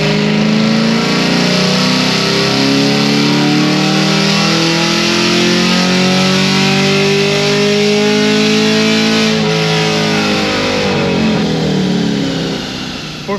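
A Corvette C6 Z06 with bolt-on and stage 3 upgrades revs hard on a dyno, its loud engine note climbing steadily through the gears in one long sustained pull before easing off at the end.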